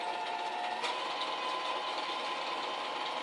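A sewing machine stitches around the petals of a summer quilt, giving a steady, continuous mechanical whir at moderate level with no speech over it.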